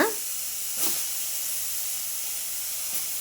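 Soya chunks and potatoes hit hot oil in a pan, a sharp initial sizzle settling into a steady soft hiss with a couple of brief spatters, fairly quiet and close.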